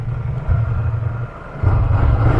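A Ducati Scrambler Desert Sled motorcycle engine rumbles steadily and close, a deep low throb that swells louder in two surges as the throttle opens, with no talk over it.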